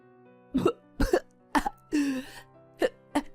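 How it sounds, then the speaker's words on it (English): A woman gives a series of about six sharp coughs, spaced roughly half a second apart, close and distinct against quiet, with one longer strained hack in the middle. "My mother-in-law continued to cough and screamed."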